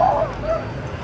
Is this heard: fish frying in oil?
no